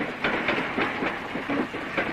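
A train rolls along its rails with a steady clickety-clack rhythm, repeated wheel beats over a constant rumble, moderately loud and close, with no voices.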